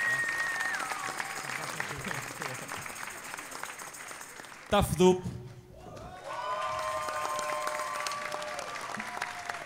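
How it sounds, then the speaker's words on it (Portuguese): An audience at the XV Ciclone university tuna festival applauds the competing tuna groups. Sustained crowd clapping runs under an announcer's amplified voice, breaks briefly midway, then swells again. "Uma salva de palmas para eles."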